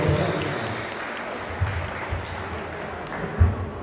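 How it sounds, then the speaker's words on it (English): Audience at a boxing event applauding, a steady wash of clapping at moderate volume with a few louder bursts, fairly distant and continuous for a few seconds. "Big round of applause for Nicky and Tobel."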